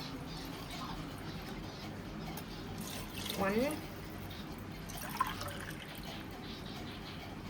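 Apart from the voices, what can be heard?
water poured into rice pot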